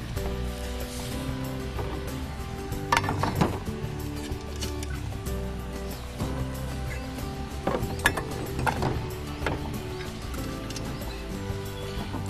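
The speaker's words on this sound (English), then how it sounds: "take your wrench and just tighten down those legs there." A wrench tightens the screws on the legs of an aerial antenna, giving close metallic ratcheting and clanking in uneven bursts over a steady background hum.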